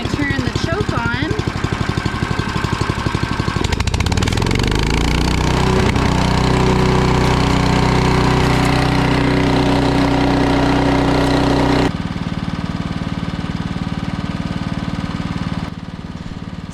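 A gas-powered wood chipper runs loud and close, its engine revving up after a few seconds and then roaring steadily while mesquite branches are fed through the chute, easing slightly near the end.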